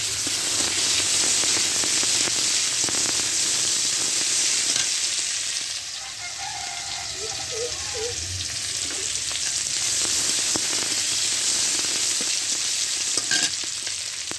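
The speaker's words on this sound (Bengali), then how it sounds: "দেখেন পেঁয়াজ কুচি আমার ভাজা হয়ে গেছে। যে মাছের তেল ছিল এটা দিয়ে দেবো।" Chopped onions frying in leftover fish oil in a pan for a pigeon-fish recipe, a loud continuous sizzle that dips briefly midway with soft stirring sounds.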